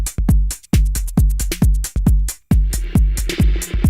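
A snare drum beat repeating steadily, processed through an Arturia FX Collection 2 spring reverb, each hit followed by a splashy, metallic reverb tail that smears into the next.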